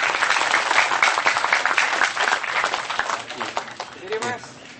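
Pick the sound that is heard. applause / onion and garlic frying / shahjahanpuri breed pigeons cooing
applause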